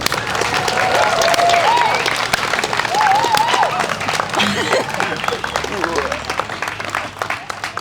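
An audience at a jazz festival in Manchester claps loudly and steadily, the applause filling the space for several seconds before gradually thinning, with a few voices and whistles mixed in.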